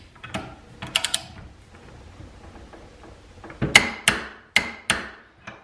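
A brake-style torque wrench set to 75 foot-pounds tightens a 1/2 inch bolt and nut. A few close ratcheting clicks come first, then a pause, then a run of sharp, loud metallic clicks and knocks.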